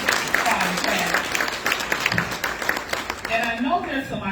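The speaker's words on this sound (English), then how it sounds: "Let's give him a round of applause for being here." Applause from a luncheon audience at an urban league diversity and inclusion awards event greeting a guest, a steady wash of clapping through the clip with voices mixed in and speech rising near the end.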